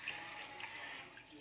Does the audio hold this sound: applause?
no